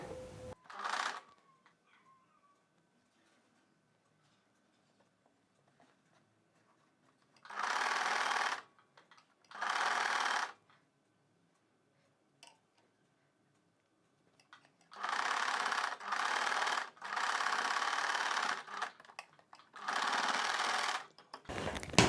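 Short, loud bursts of a sewing machine stitching a hooks belt on a boat-neck, front-open blouse, stopping between runs and then firing off a quick series of bursts near the end.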